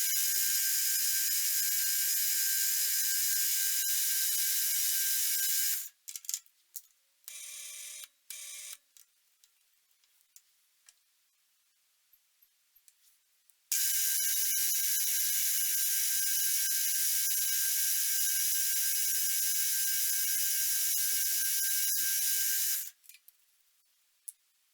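Loud, steady high-pitched whine of a drill chuck on a milling machine drilling metal, cutting out midway into near silence with small clicks, then resuming for a long stretch before stopping.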